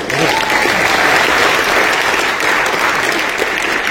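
Audience applause at a public gathering, loud continuous clapping from a large crowd lasting the full few seconds, close and dense with no pauses.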